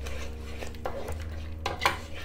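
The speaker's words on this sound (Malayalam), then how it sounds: "ഇതിന് നല്ലോണം എണ്ണ തെളിയണ വരെ ഒന്ന് വഴറ്റണം." Chicken curry masala is stirred and sautéed in oil in a pan, giving close metallic scraping and clinks of a spoon against the pan over a low sizzle, with no voices.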